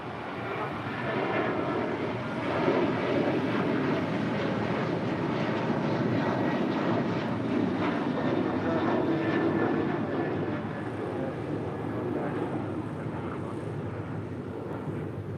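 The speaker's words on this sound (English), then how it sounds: "Got KLM Flight 601 coming in from Amsterdam," A KLM flight from Amsterdam lands at LAX, its jet engines a loud, sustained broadband roar that swells and holds for the whole stretch before easing slightly, with no talking.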